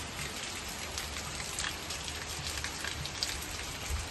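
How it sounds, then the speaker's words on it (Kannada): Heavy rain falling steadily on a farm, a constant dense hiss of drops that stays even and fairly soft throughout with no voices. "ಇವಾಗ ಫುಲ್ಲಾಗಿ ಮಳೆ ಬರ್ತೈತೆ"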